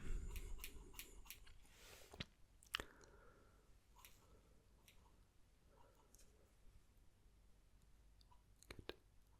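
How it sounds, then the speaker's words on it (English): Scissors cutting hair snip in quick, crisp bursts close by, a few clusters of sharp clicks and slicing sounds over a quiet background. "These scissors are working exceptionally well."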